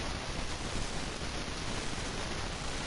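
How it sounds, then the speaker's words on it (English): Steady radio white noise hisses in the Shadowrun Hong Kong Extended Edition game, a flat, unbroken static wash at low level with no voices. "Alright, so more white noise."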